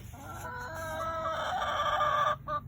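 Chickens, farmyard pets, cluck steadily in a close, continuous chorus for almost three seconds, with a rooster-like crowing note rising through it before a brief pause and a final short cluck.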